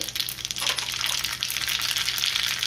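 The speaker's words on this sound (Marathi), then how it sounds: "त्यामध्ये मेथी दाणे घालूया, त्यातच मोहरी आणि जिरे घालायचे" Fenugreek seeds, mustard seeds and cumin sizzle in a spoonful of hot oil in a small tempering pan on a gas stove, a steady, close, bright crackling hiss for a mango chutney, with no talking.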